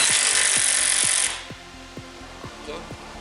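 A power tool tightens the caliper bolts on the hub bracket of a Jaguar X-Type's front brakes, with a loud whirring burst for about a second followed by a run of evenly spaced clicks.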